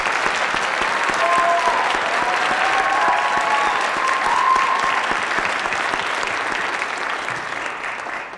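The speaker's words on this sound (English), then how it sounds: "So if we could give Mr. Floyd a round of applause" A high school awards ceremony audience gives a loud, sustained round of applause, dense clapping that holds steady and only eases slightly at the end.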